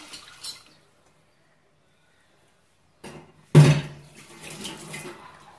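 Water-thinned roasted masala mixture poured from a vessel into a cooking pot, a sudden loud splash and gush after a quiet pause, then settling into a softer trickle and liquid sloshing nearby.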